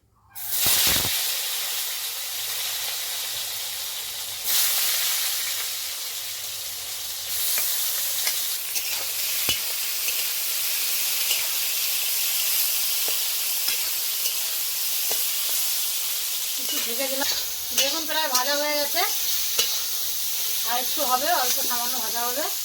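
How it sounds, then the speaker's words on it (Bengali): Sliced brinjal sizzles steadily in hot oil in a wok, a loud continuous hiss broken by spatula knocks and stirring clatter, with some warbling tonal sounds near the end. "দেখুন বেগুনটা আমি এবার ভাজা করে নেবো"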